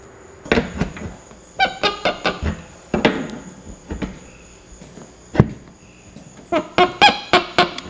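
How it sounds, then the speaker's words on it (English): A 3/4 inch air line fitting squeaks in short sharp bursts as it is tightened during an air system install in a paint booth, the squeaks repeating in clusters, close and fairly loud over a quiet background. "know it's tight when it squeaks good"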